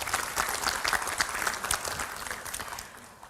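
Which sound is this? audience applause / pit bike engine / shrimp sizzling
audience applause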